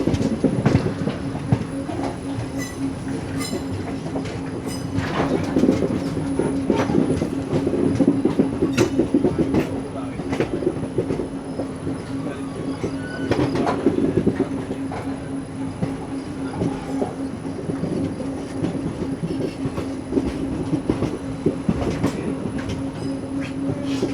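An ICF three-tier sleeper coach on the Hyderabad–Kollam Special rolls along at speed, heard from inside with a constant rumbling roar, a steady hum and recurring clickety-clack of wheels over rail joints.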